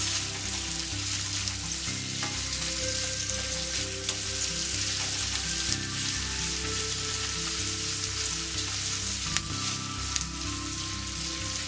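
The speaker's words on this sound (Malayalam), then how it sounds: "നന്നായിട്ടൊന്ന് വഴറ്റാം." Onions sautéing in a pan for egg chilli give a steady, dense sizzle that holds loud and unbroken throughout, with faint stirring beneath and no voices.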